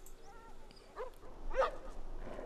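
Dogs in The Last of Us Remastered video game give faint barks and yips, with a louder bark cluster near the middle, set low against quiet game ambience.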